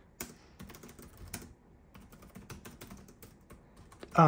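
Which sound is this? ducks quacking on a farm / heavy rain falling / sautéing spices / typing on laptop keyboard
typing on laptop keyboard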